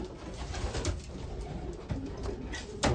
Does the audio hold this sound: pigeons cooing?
yes